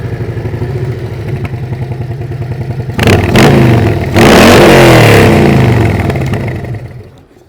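A motorcycle fitted with a Tab Performance Redline exhaust idles with a loping, throbbing beat, then revs hard in a couple of loud, close blips before sustaining a deep, roaring rev that fades out.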